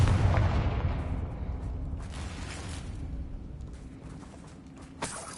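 In the video game Hogwarts Legacy, a Confringo fire spell detonates with a heavy rumbling boom that slowly fades over several seconds, followed by a sharp, smaller pop near the end.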